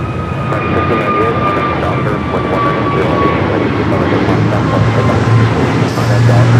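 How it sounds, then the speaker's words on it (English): An Airbus A321neo jet at Los Angeles International Airport makes a loud, steady engine roar with a sustained whine. People talk over it throughout. "A321neo"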